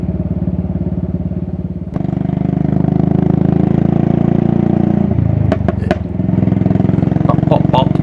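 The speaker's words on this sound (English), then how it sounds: "because the head is a little bit loose, you get these incredible bangs" A single-cylinder motorcycle engine with a loose cylinder head running close by with a steady thumping beat, broken by a few sharp pops and bangs near the end.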